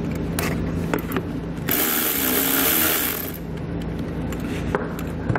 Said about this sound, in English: I'm going to loosen the nut on top of the positive post of the battery